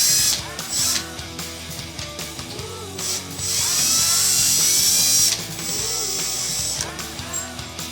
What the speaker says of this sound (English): I now feel confident to move to a power drill